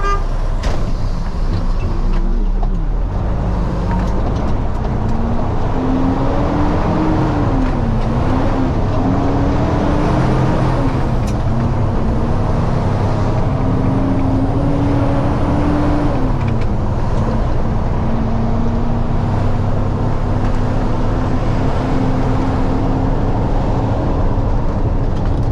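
Heavy truck pulling out onto the road for a local delivery job, a steady engine drone with shifting pitch as it accelerates and changes gear, constant road rumble throughout.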